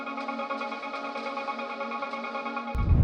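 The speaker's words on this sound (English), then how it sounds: "Finally, some ambience layers from my atmospheric sample pack volume 2." Atmospheric ambience layers from a sample pack form a steady, soft tonal drone with sustained harmonic layers, ending in a sudden low boom.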